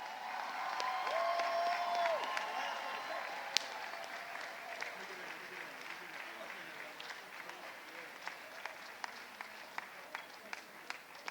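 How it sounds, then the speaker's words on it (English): Sustained crowd applause with some cheering fills a large celebration venue, steady and dense at first, then thinning into scattered individual claps toward the end. "So they deserve the biggest round of applause out of this whole thing today."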